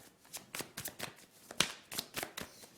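Tarot cards being shuffled and drawn close by, a quick series of crisp riffling slaps in an uneven rhythm, one sharper snap standing out, with no talking.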